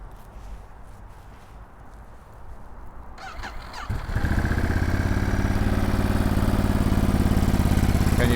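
A Ducati Monster 937 with its V2 engine starts up after a few seconds of quiet outdoor background, then settles into a loud, close, steady idle with a rapid rhythmic pulse.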